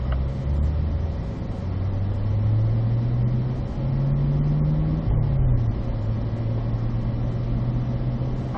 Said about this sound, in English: keep the cars in fourth gear and we're going to go ahead and exit the track